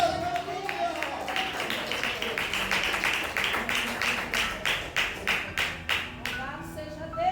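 Church congregation clapping hands during a sermon, a rhythmic run of sharp, loud claps in a steady beat building after a brief voice at the start, echoing in the hall.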